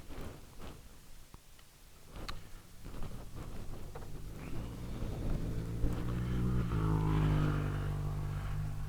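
A Ducati motorcycle approaches and passes nearby, its engine growl building from quiet ticking to a loud, rising drone that peaks and holds near the end, with faint wind noise around it.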